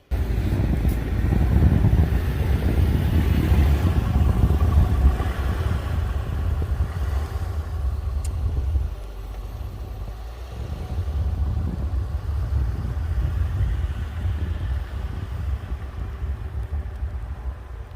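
A car pushes through about a foot of deep snow, its engine droning loud and low with a heavy rumble that eases and steadies after the first half, no voices.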